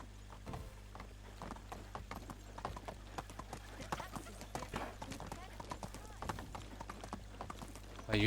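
Hooves clatter in a steady galloping rhythm as a horse runs in the medieval video game Medieval Dynasty, continuous and moderately loud, with a voice talking over it.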